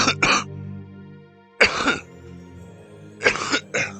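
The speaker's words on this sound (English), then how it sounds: "I'm coughing" A person coughs close and loud in three harsh bursts separated by short silent pauses, with no talking in between.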